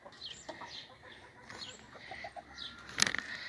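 A pet duck flaps its wings in short bursts while being held, with soft feather rustles and a louder flurry near the end, fairly close and faint overall.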